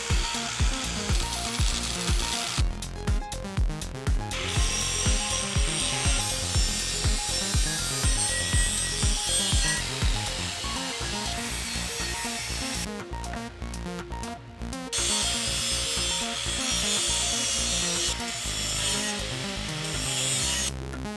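Trimming a metal part on a Tesla/Tatra monster truck build fills the clip with loud, continuous grinding and cutting noise, broken by stretches of rapid rattling pulses and a few steady whining passes, with no talking.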